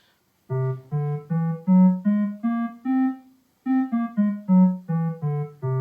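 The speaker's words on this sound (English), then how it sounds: "That's a whole tone scale" A plucked or keyed instrument plays an evenly spaced rising run of notes, pauses briefly, then plays another run, each note clear and sustained.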